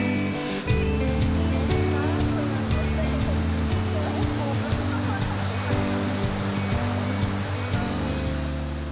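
Continuous rushing roar of a waterfall in Tahiti, dense broadband splashing and spray held steadily loud throughout, with a low rumbling undertone.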